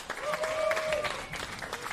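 Crowd applause at the men's singles gold medal match of a pro pickleball open in Philadelphia, steady clapping that fills the whole moment at moderate distance, with some faint voices and cheers mixed in.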